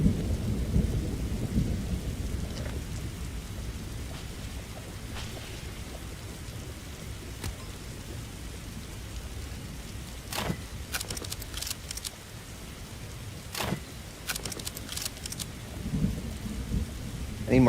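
A Roblox thunderstorm: steady rain hiss with a low rumbling bed, broken by several sharp cracks of thunder clustered in the second half, fairly loud and without talking.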